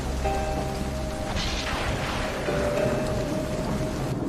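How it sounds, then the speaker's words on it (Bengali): Steady rain falls with a constant hiss and patter, and a soft rumble rolls in briefly partway through. "আকাশে মেঘ জমে আর হঠাৎই বৃষ্টি শুরু হয়।"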